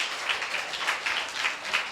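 Crowd clapping at a Good Friday prayer-house service, a steady, dense wash of many hands beating at once, moderately near and filling the whole moment without voices.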